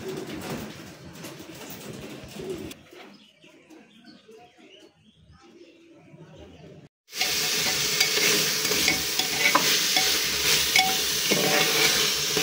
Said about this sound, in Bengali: আমি বাটা মশলাগুলো সব তেলের ভিতরে দিয়ে দিছি